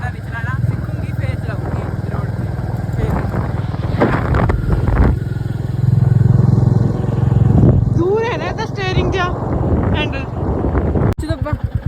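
A Bullet motorcycle rides along a village road with a low, steady engine thump and rumble buffeted by wind noise, while voices talk over it throughout.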